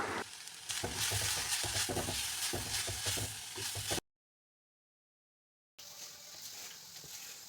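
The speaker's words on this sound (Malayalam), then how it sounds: "വെന്ത് വന്ന ഇലയിലേക്ക് തേങ്ങയും വറ്റൽമുളകും ഒതുക്കിയതും ഒന്ന് ചേർത്ത് നന്നായിട്ട് ഇളക്കി കൊടുക്കാം" Jackfruit leaf thoran with coconut and dried chili is stirred in a hot pan, a dense close sizzle with rapid scraping strokes, cut by a sudden gap of silence before the frying resumes.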